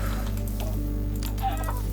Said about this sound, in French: On va se faire quelques poulets